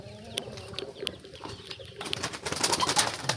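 Soft clucks and low calls from a hen with her newly hatched chicks, close and fairly quiet, building into denser rustling and chirping toward the end.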